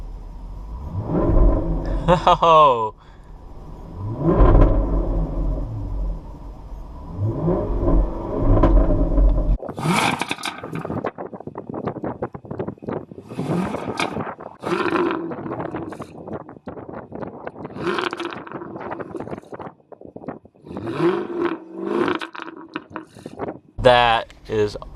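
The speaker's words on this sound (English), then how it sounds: "Now we got the sport exhaust turned on" A 2017 Jaguar F-Type Coupe with its sport exhaust switched on revs in several loud, rising bursts, then roars and crackles more continuously, with a brief exclamation from a person nearby.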